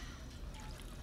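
Water pours in a soft, continuous trickle at a settlement in the video game Fallout 4, quiet and steady throughout.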